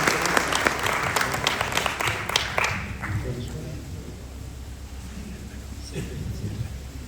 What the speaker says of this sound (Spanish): y un aplauso para él